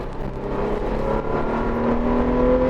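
A Toyota Prado 150 with a 1GR-FE engine hums and rises in a steady rev, moderately loud and close, with no talk over it.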